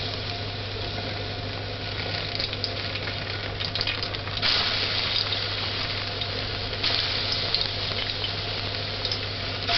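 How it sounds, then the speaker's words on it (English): Plantain slices fry and caramelize in a hot pan on a high stove, giving a steady, close, moderately loud sizzle with a constant low hum and a few brief scrapes, no talking. "So just allow them to fry on each side for about 30 seconds to 1 minute, or until it's gold, like caramel brown"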